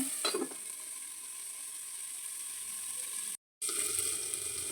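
Chicken tandoori sizzling in a covered pan over a medium flame, a steady close hiss of frying with a brief dropout partway through; no one speaks.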